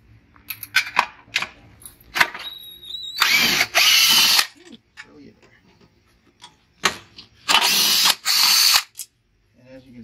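Power drill backing out the front bolts on a Toro Recycler 22-inch mower, two loud sustained bursts of about a second each, separated by softer clicks, handling noises and brief talk.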